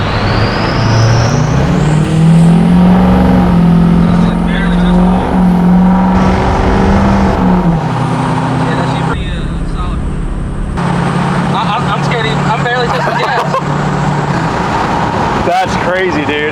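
Heavy diesel roar from a truck with a 6.0L Powerstroke engine and oversized injectors accelerating hard, loud and close for the full stretch, with excited voices talking over it.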